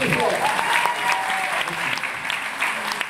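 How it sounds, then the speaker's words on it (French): An audience at a Restos du Coeur magic show in 2018 bursts into sustained, dense applause, many hands clapping loudly and evenly throughout, with faint voices mixed in. "On l'applaudit très fort."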